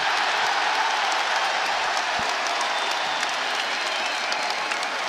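A basketball arena crowd roars and applauds during a Pittsburgh vs Iowa NCAA game, a dense, steady wash of cheering close and loud throughout.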